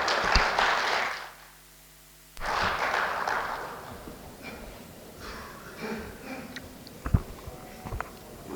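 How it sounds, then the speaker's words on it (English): Audience clapping for a conference chairman at the inaugural session of an annual conference, a broadband burst in the first second, a short gap, then a second fuller burst that tapers into scattered claps and room noise. "Friends, huge round of applause for Chairman EIRC."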